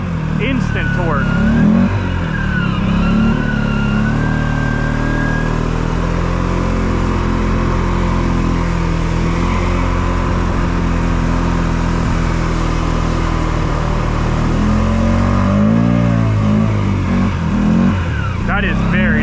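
A Polaris vehicle engine revs and accelerates close by, its low throaty rumble rising and falling in pitch over several pulls. People talk over the engine now and then.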